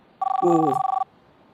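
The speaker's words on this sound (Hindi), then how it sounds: "तंजीला आंटी किसका फोन था?" A telephone rings in a single electronic ring burst of about a second, with a steady warbling tone, loud and close in a quiet room, with no talk over it.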